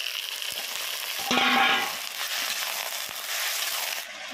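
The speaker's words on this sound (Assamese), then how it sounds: "অকল ভাজি আছোঁ তেল আৰু পিঁয়াজ দি পেলাই" Steady hiss and crackle of mutton frying with onions in hot oil, swelling louder for a moment when stirred, with faint clinks.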